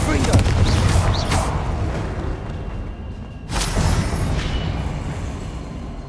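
A fire-blast spell explodes in the Hogwarts Legacy video game, a deep booming burst with a rumbling tail, then a second blast bursting in midway, loud and close over a continuous low roar.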